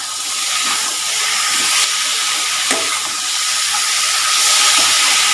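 Small pieces of chicken sizzle as they are sautéed in a pan without water for Chicken Chinthamani, a steady close hiss of frying with no voices.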